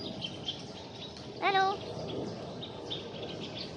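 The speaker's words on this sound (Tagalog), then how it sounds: "Daming ibon oh." Birds chirp outdoors in a tree-filled area, with a brief clear burst of tweeting standing out over faint ambient noise and a short spoken word.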